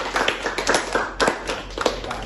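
A small classroom group claps in scattered, uneven bursts of sharp hand strikes, close and fairly loud, over a low steady hum.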